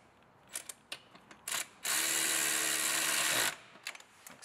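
A socket extension with a wobble bit spins a bolt on a 2012 VW Jetta 2.5 intake area, giving a close, steady ratcheting whir of about a second and a half, with short clicks before and after it.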